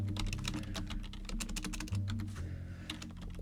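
Fast, dense computer keyboard typing close to a microphone, continuous clatter over a steady low musical hum from a game.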